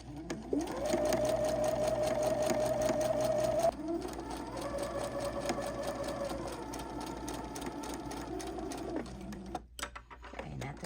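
A sewing machine runs slowly and steadily while a round corner on a fabric bib is stitched, its motor whine holding a pitch, dropping slightly, then stopping near the end.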